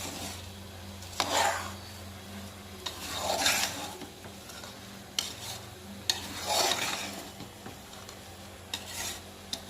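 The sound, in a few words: stirring rice into a cooking pot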